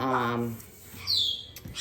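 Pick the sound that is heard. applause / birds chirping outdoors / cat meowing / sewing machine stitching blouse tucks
birds chirping outdoors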